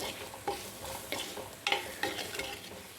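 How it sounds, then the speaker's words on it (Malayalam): Dried prawn roast being stirred in a pan after salt goes in, a few distinct scraping knocks of the spoon spaced over a soft background sizzle, close and fairly quiet with no talking. "ഇതെല്ലാം നന്നായിട്ടൊന്ന് മിക്സ് ചെയ്യാം"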